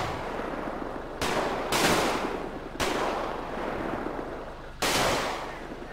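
Sustained automatic gunfire from a suspect in the GTA 5 police mod, loud and close, running as a dense continuous rattle with several sharp bursts cutting through.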